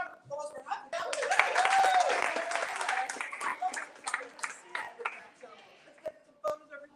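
A round of applause at a fan meet-up for a book signing, with dense clapping swelling over the first few seconds and then thinning into scattered claps as voices talk through it.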